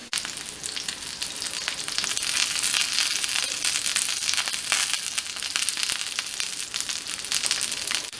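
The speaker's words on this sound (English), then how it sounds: "Adding my steak to the pan. Add some serrano peppers whole." Steak and whole serrano peppers sizzle steadily in a hot frying pan, a loud, dense, continuous frying hiss with crackling pops throughout and no voices.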